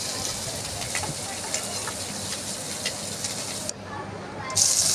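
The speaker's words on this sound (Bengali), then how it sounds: "চিংড়ি মাছগুলো ভাজা হয়ে গেছে," Shrimp frying in a pan for a Bengali prawn pilaf, a continuous crackling sizzle that briefly dips near the end, with a voice partly present.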